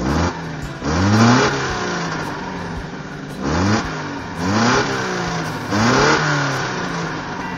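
An Alfa Romeo 33 with a boxer engine and twin double-barrel carburettors revs up close in several sharp bursts, dropping back to a rough idle between each blip.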